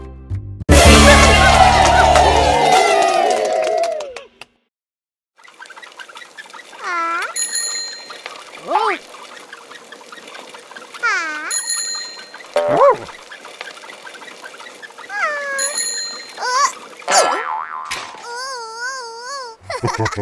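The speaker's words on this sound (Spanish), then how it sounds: "Pinkerton rings his bell when he passes people on his bike." A bicycle bell rings in several short, bright bursts spaced through the stretch, mixed with wavering, wail-like voiced tones and a loud opening burst of sound.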